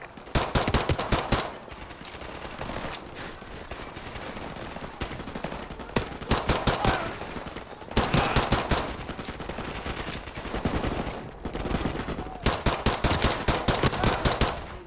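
Rapid bursts of gunfire and machine-gun fire from the Modern Warfare campaign video game, loud and dense, with sustained automatic volleys near the start, middle and end and steady combat noise between them.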